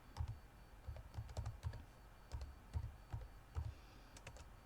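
Someone types text on a computer keyboard in quick, irregular bursts of soft, close keystroke clicks, with no talking.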